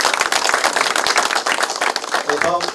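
Audience at a Democratic Party election campaign committee meeting claps in close, loud applause throughout, with a voice speaking at the end.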